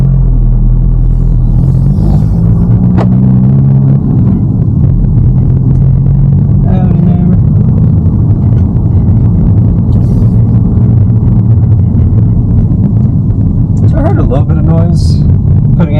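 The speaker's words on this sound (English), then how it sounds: "Putting it into first, leaving the house at low RPMs" A VW Mk8 GTI fitted with an APR pendulum/dogbone mount pulls away in first gear at low RPM, a loud, steady engine rumble heard from inside the car with short spoken comments over it.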